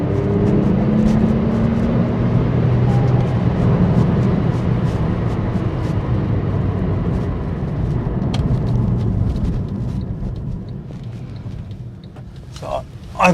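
A Porsche 911 Carrera 2 of the 997 first generation being driven, its steady engine and road drone filling the cabin continuously while someone talks over it.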